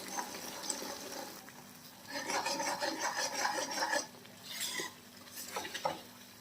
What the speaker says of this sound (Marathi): तर हळूहळू आहे ना चम्मच या ग्रेव्हीमध्ये फिरवत राहायचं.